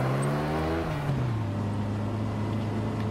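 Car engine revving in the video game Just Cause 3: a steady, loud motor drone that sags in pitch about a third of the way in, then holds a lower, even tone to the end, with no voices.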